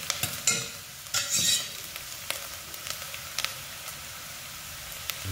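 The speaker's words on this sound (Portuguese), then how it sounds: "Com o alho aqui, junto com a cebola. Agora ia refogar a carne." Meat sautéing in a pan with garlic and onion, a soft crackling sizzle with sharp spatula clicks and stirring scrapes, close and without speech.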